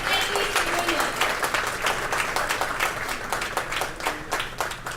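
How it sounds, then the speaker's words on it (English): An audience at a live UX event claps steadily for the full five seconds. The dense, even applause sounds close and fairly loud, with crowd noise mixed in. "let's put up a huge round of applause for every single one of you present here"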